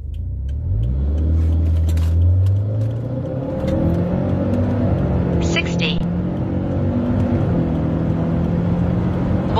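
A Subaru Forester SJG tS STI on 18-inch wheels pulls away hard from a standstill, its engine note climbing steadily in pitch and staying loud and close throughout.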